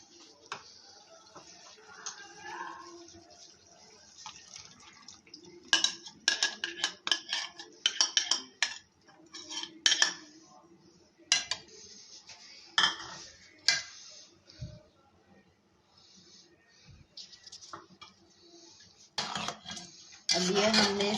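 Utensils clink and scrape against dishes and a pot as a yogurt-onion paste is added to korma, intermittent metallic taps and bursts of clatter, with a quiet stretch at the start and faint background sounds.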